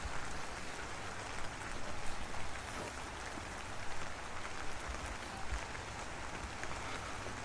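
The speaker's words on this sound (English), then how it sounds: "It might be hard to see in the actual video, but it is raining." Rain falls through trees as a steady, soft hiss, with scattered drips and patters spread evenly throughout. It is fairly faint, with no one speaking.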